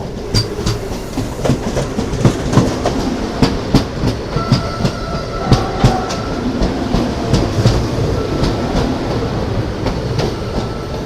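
The 12763 Padmavati SF Express rolls along at speed, its wheels beating a loud, regular clickety-clack over rail joints amid a continuous rumble, with no voices.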